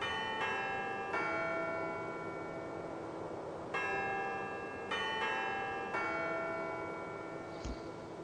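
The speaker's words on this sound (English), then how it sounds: "it's the ringer of the bells" Church bells ring in the Syberia adventure game, with several loud struck peals and long, overlapping resonant decays over a steady ambient hum.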